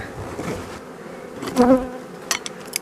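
Honeybees hum and buzz close by at an open hive during a honey harvest, a steady insect drone with a few louder passes near the ear.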